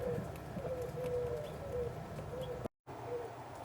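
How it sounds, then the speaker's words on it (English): A pigeon coos softly in a backyard fruit and vegetable garden, repeating low calls at a moderate distance over light outdoor background noise. "I'm not going to get any closer because I've got a pigeon there and I don't want to scare him."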